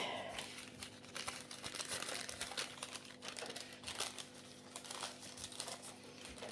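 Paper crinkling and rustling close by, with soft irregular crackles and light taps continuing steadily throughout, no voices.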